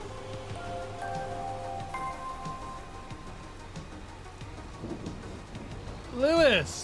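Rain falls in the Farming Simulator 25 game, a constant soft hiss under a person talking, with a short tonal sweep near the end.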